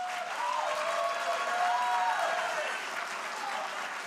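A debate audience gives steady, even applause that fills the whole stretch, a dense crowd clapping at moderate distance with no pause.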